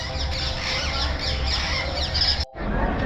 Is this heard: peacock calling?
yes